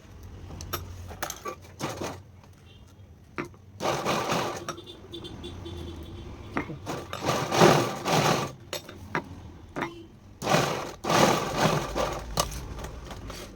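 A sewing machine stitches lace onto a choker-style dupatta in a tailoring boutique, running in short bursts of whirring separated by pauses and small handling clicks, close and moderately loud with no talk.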